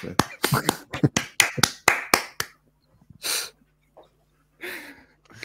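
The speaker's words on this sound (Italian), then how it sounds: "Sto applaudendo all'atterraggio dell'aereo." Rapid hand claps applauding an airplane landing, a quick burst of about a dozen sharp slaps, then a pause with a few faint breathy sounds afterward.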